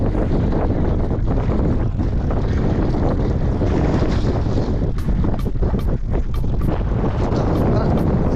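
Loud, constant roar of strong wind buffeting the microphone out on open water, with wave wash beneath and a faint voice under the noise.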